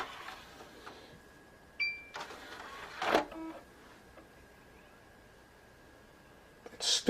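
Xbox 360 HD DVD drive powers on and boots with scattered clicks, brief whirs and mechanical clunks over a faint steady hum, quiet and close, with no talking.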